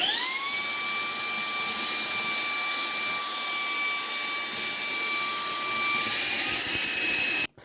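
A Ryobi HP stick vacuum runs continuously with a high, whining motor pitch while sucking up larger debris, the tone steady and loud until it shuts off abruptly at the end.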